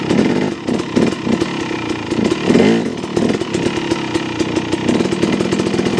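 A motorcycle fitted with a Rekluse auto clutch putters through full-lock turns in first gear on bumpy ground, its close, uneven engine chugging and blipping throughout.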